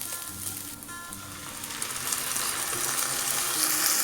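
Okra frying in a pan, a steady hissing sizzle that grows slightly louder and brighter toward the end, with faint clinks early on.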